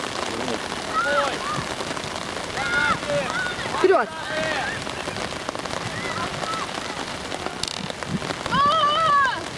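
Steady rain patters on surfaces throughout at a youth football match, with people talking and calling out over the downpour.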